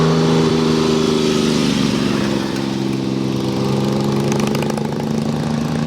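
A BSA triple engine fitted in a Norton featherbed-frame cafe racer idles with a loud, steady, throaty rumble that holds evenly throughout, with no voices over it.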